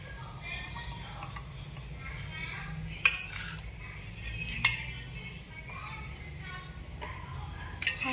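Spoons scooping homemade ice cream mix into molds, with small scattered clinks and scrapes of metal on the containers under steady background chatter from people nearby.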